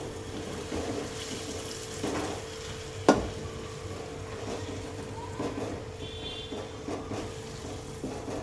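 Oily curry catching at the bottom of a pan is stirred against a constant low sizzle, with soft scraping strokes and one sharp clack of a spoon on the pan.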